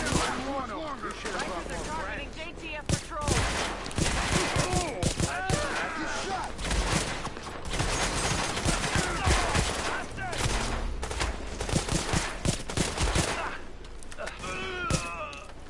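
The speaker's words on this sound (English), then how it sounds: "Gunfire." Bursts of rapid gunfire crackle almost continuously in the video game Tom Clancy's The Division, loud and close, with shots overlapping in dense volleys and a few heavier thumps.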